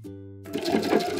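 Sewing machine stitching a loop onto a clear vinyl raincoat, starting after a low steady hum and running as a fast, close, continuous mechanical whir for about a second.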